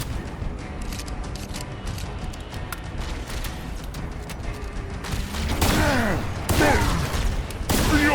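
Dense rapid gunfire with sharp bursts and laser-like sweeping zaps fills a battle in the Halo Campaign Evolved video game, growing louder toward the end.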